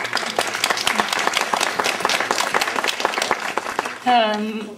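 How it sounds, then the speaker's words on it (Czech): A crowd applauds steadily at the opening ceremony of a celebration at a historic farmstead, dense clapping throughout, then a voice begins speaking as the clapping fades. "Myslím, že můžeme i zatleskat, protože strašně děkujeme."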